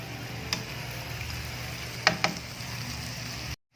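Tofu frying in sweet and sour sauce being stirred in a pan, a soft steady sizzle broken by a few light clicks of a utensil against the pan.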